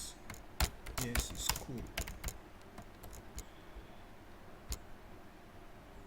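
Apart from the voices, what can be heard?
typing on a computer keyboard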